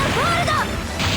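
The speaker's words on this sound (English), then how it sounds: "Fire hold!" The Fire Hold skill attack in the video game 7th Dragon 2020 bursts out as a loud, close crash with a swooping tonal sweep, followed by a hissing burst, all within about a second.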